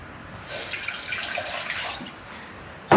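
Water pours steadily from a tap into a cooking pot for rice, a soft continuous splashing stream that ends with a sharper clatter.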